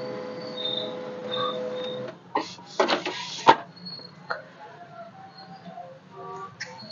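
An HP LaserJet 1005 printer starting up after a toner refit, with soft mechanical whirring and tones, then a series of clicks, clunks and rattles at irregular intervals, close and fairly quiet with no talking.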